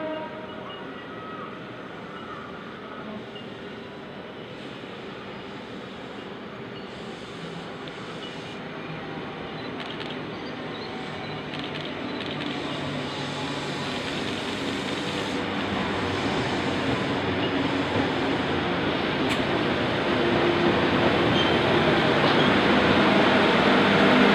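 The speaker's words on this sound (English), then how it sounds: "The train is now seen departing Casula." A Sydney K set electric train departs Casula station on a farewell tour, a steady rumble of wheels and motors building gradually louder over the whole stretch, with no speech.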